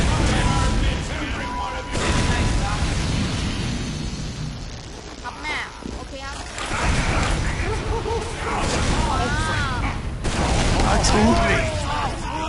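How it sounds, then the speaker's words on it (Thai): Weapons fire in the Team Fortress 2 video game: loud, dense bursts of shots and booms fill a busy, continuous game mix, with voices talking over the fighting. "เฮ้ยมันจะยิงผมทำไมอ่ะ"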